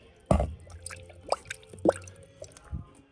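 A few scattered wet drips and squishy plops of engine coolant from a hose on a Toyota Camry Hybrid land irregularly, close by and fairly quiet, with short gaps between them.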